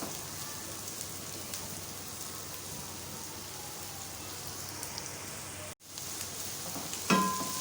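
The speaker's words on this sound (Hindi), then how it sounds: "प्याज हमारे सौते हो गए हैं।" Onions sautéing in a pan for a spicy vegetable macaroni, a steady soft sizzle and hiss running throughout, close and quiet with no talk, broken by a brief cut and a small clink near the end.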